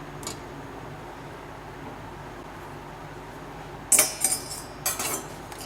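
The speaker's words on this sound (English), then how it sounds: "Get the yolk out and mix it up with the gravy." Spoon mixing boiled egg yolk into an Indian egg curry gravy, heard as a quiet background, then a few bright clinks and scrapes of metal against the dish near the end.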